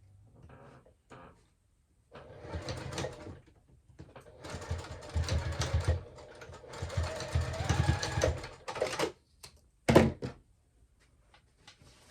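A sewing machine runs over a lining seam on a fabric clutch in short bursts and a longer steady stretch, broken by fabric handling and a sharp thunk near the end.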